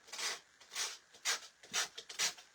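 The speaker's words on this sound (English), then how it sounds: "all I'm doing is going around my edges with a sanding block" A sanding block rubs along the edges of craft paper for a gingerbread house shaker card in quick, separate downward strokes, each a soft close scratchy swish with short pauses between, without any talk.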